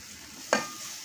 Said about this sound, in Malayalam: ചൂടായ എണ്ണയിലേക്ക് നാളികേരം ചിരകിയത് ഇട്ട് കൊടുക്കുക.